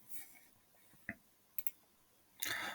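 A computer mouse clicks in SolidWorks: a single sharp click, a quick double click, then a longer click-and-rustle at the end, all faint and close, with no talk.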